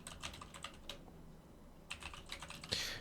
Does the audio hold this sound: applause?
no